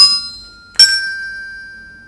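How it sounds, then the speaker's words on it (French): Two small bells ring one after another, the first fading as the second, higher-pitched one strikes with a bright, sustained ring that decays slowly; close, clear and alone. "Laquelle des deux cloches est la plus aiguë?"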